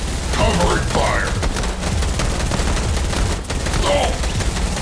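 Sustained, heavy gunfire from the video game Fortnite, a dense, continuous volley of shots, loud throughout, with voices talking over parts of it.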